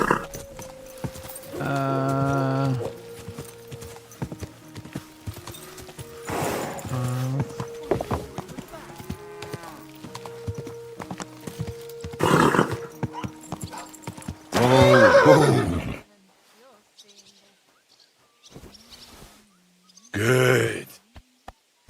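Horse neighs and whinnies several times in Kingdom Come Deliverance 2, with clip-clopping hooves and snorts between, loud and close, ending in a short burst after a brief silence.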